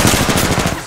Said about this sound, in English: I'm shooting when I'm down.